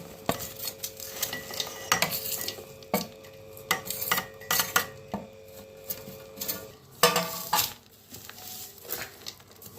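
Jaggery being added and stirred into mango pickle in a pot, with repeated scraping, clinking and stirring knocks in an uneven rhythm, close and fairly loud, no talk.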